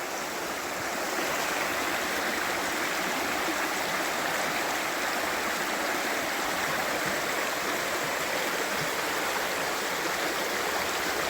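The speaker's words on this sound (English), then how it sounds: "I got to this creek, which I think is Box Elder Creek" Box Elder Creek rushes steadily nearby, a constant, full hiss of flowing water with no pauses and no voices.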